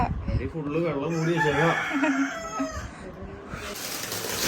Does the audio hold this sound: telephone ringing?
no